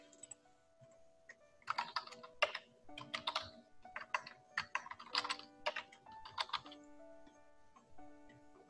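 Keys on a computer keyboard clatter in quick uneven bursts of clicks, with short pauses between groups, fairly close and quiet over a faint steady hum.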